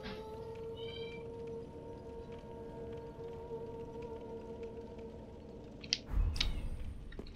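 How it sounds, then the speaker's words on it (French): Cat meowing indoors, faint and drawn out against a steady hum of room and game noise, with a couple of brief sharper sounds near the end. "Pourquoi est-ce qu'on a une qui miaule comme ça?"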